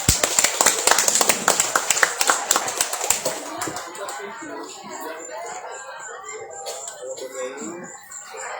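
Crowd clapping at an Indonesian Independence Day eve gathering, several seconds of rhythmic sharp claps that loosen into scattered applause, with voices and chatter underneath as it fades.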